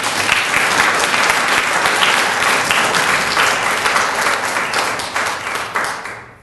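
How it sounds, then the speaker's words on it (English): Warm, dense audience applause welcoming a bishop to a cathedral talk, loud and sustained clapping that tapers off and fades near the end. "I'd like you to give the Bishop a round of applause and a warm welcome"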